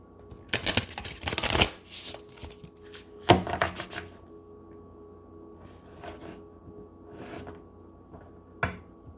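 Cards are shuffled in a few quick riffling bursts, crisp and close, separated by quieter pauses with light handling noises.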